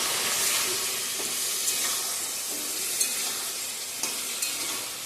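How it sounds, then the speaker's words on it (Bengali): Potato and eggplant curry frying in a pan gives a steady, close sizzle and hiss. A few soft scraping knocks from stirring come through at intervals, with no voices. "আলু বেগুনের তরকারিটাও বসে দিয়ে দিচ্ছি।"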